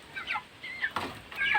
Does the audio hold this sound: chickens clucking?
yes